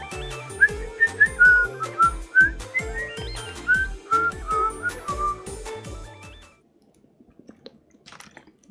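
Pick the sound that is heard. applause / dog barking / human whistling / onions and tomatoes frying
human whistling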